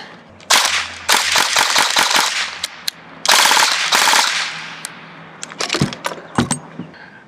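A Cyma AK airsoft rifle with standard trigger contacts fires in rapid bursts, close and loud. Crisp mechanical cracks come in fast strings separated by brief pauses, then a few scattered single shots.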